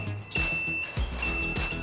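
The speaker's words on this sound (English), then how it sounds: "the beeping that comes along with turning those left and right blinkers on" Emove Cruiser electric scooter turn-signal blinker beeping in a steady repeating rhythm, clear high electronic tones at close range with a ticking pulse underneath, no talking.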